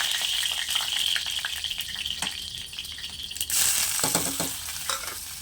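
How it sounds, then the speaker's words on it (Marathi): Onion sizzles and fries in a spiced tempering of cumin, mustard seeds and curry leaves in a pan for a green tomato bhaji, with a steady close hiss, stirring clatter, and a louder burst of sizzle partway through. "मस्त असं फ्राय करून घ्या कांदा लाल होईपर्यंत"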